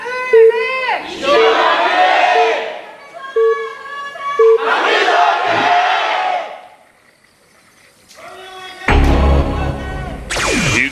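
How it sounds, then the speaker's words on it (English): A stadium crowd at the SSL Premier StarCraft final, INnoVation vs Solar, roars and cheers in loud surging bursts, with commentators talking between the swells. "Huge cheer from the crowd here for our fan favorite"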